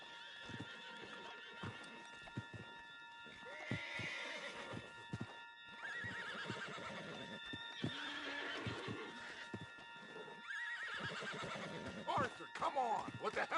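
Horses in the Western video game Red Dead Redemption 2: repeated whinnies and neighs with clip-clopping hooves, mixed with characters talking and background game sounds, at a moderate level throughout.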